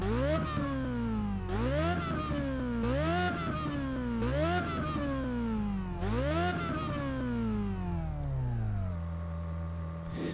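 A sports car engine in the video game Test Drive Unlimited 2 revs up repeatedly through several gear shifts, each climb ending in a sharp drop, loud and smooth with a synthetic tone.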